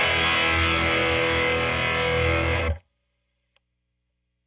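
A heavily overdriven electric guitar chord, with a boost stacked on the overdrive, rings loud and saturated for nearly three seconds, then cuts abruptly to silence.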